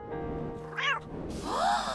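Meowth, the Pokémon cat, lets out a short cartoon meow, a bright rising and falling voiced cry, close and clear, heard on its own.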